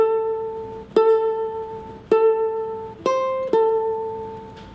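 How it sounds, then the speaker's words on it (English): Four plucked ukulele notes, each sustained, ringing out and slowly decaying before the next, bright and close, in a blues style. "So a sustain would sound like this."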